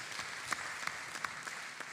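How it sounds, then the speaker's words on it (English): Soft, scattered clapping from a forum audience, faint and distant, with a few sharper individual claps standing out over a low room murmur. "we can give him a round of applause"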